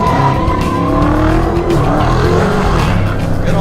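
A 797-horsepower race car launches on a road course, its engine roaring loudly and close while the tires squeal and skid continuously as it pulls away.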